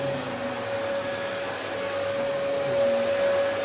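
A Dyson or Henry vacuum cleaner runs on carpet, a steady close whining roar with a high motor tone holding constant throughout, no voices.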